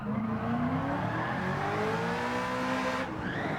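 A new Corvette's engine screams at high revs in a racing video game, with loud rising and falling harmonic tones and a quick shift near the end. No one talks over it.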